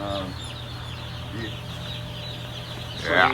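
Soft clucking from a group of chickens in a brooder against a steady low hum, with a brief louder burst near the end.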